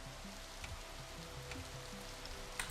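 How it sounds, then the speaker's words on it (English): Steady rain from the fantasy video game For the King, a soft, even patter held at low level throughout, with a few faint brighter ticks near the end. "And we get to listen to the rain."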